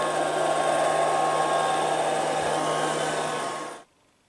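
A Liectroux B3000 robot vacuum cleaner runs with a steady, loud, high whirring drone that holds constant, then cuts off abruptly near the end, leaving silence.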